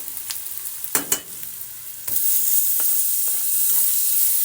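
Tomato drops into a hot pan for a carrot stir-fry: a few sharp clatters and scrapes, then a loud, steady sizzle takes over and holds close up.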